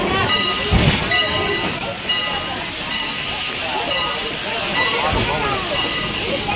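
A Strasburg Rail Road steam train pulls out of the station with a steady hiss of steam and a low rolling rumble that continues throughout, with a few heavier chuffs.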